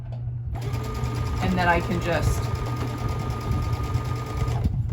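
A sewing machine stitches across quilt block seams with a steady, close mechanical whir running throughout, while a person talks briefly over it.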